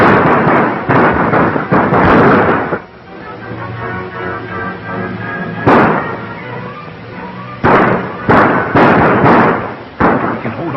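A film shootout, with sharp gunshots cracking in clusters and single bursts across the scene, separated by a lower rumbling stretch. The shots are loud and close, with gaps of quieter background between volleys.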